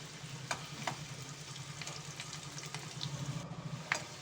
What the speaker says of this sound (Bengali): আলুগুলোকে আমি যতক্ষণ না একটু কালার আসছে ততক্ষণ পর্যন্ত আমি আলুগুলোকে ভেজে নেব